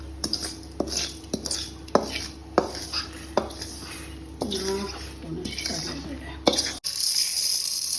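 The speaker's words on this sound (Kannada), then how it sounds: "ಈಗ ಇದನ್ನ ಒಂದು ತಟ್ಟೆಗೆ ಟ್ರಾನ್ಸ್ಫರ್ ಮಾಡ್ಕೋಬೇಕು" Spoon scraping and knocking on a metal pan while bitter gourd pudi palya is moved onto a plate, a series of sharp clinks and scrapes at close range, with someone talking between them.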